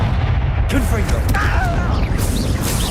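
A Confringo blasting spell bursts in Hogwarts Legacy, a loud booming explosion over constant low rumbling game noise, with crackling debris and a sharp onset partway through, and other game sounds layered beneath.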